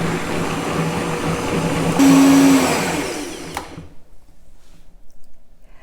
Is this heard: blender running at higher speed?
yes